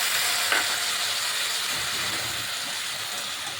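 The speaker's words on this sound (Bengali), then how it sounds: "আমি এখানে অল্প পরিমাণে একটু জল দিয়ে দিচ্ছি" Water added to a pan of frying long beans and potatoes in spiced curry, giving a loud, continuous hissing sizzle with a brief clatter near the start, close and alone.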